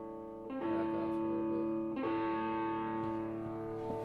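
A 2006 Nashville-made Gibson SG electric guitar rings out sustained distorted chords with heavy overdrive, loud and close, with a chord change partway through.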